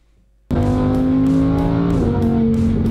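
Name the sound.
car accelerating hard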